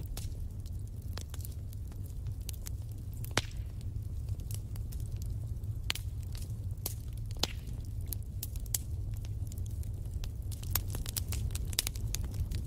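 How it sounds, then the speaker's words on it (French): A wood fire burns in a fireplace, giving off a low steady rumble with frequent sharp crackles and pops scattered irregularly throughout. "laissez-vous bercer par le doux ronronnement du feu qui crépite"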